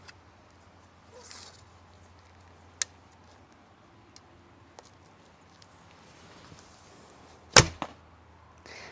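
A single sharp, light metallic snap of a bowstring released on a Hungarian-style bow as an arrow is shot, preceded by quiet outdoor background with a few faint ticks.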